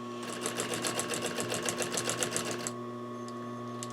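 A sewing machine stitches a summer cushion with a fast, even, close run of rhythmic needle clatter over a steady motor hum. The clatter stops near the end and only the hum remains.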